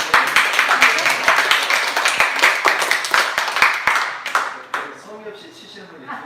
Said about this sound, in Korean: 세 번째는 박수. 박수 소리.